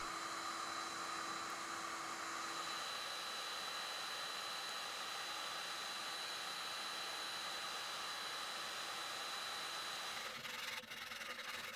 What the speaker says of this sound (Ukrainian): Розплавивши пластик феном, формуємо матрицю за допомогою пуансону.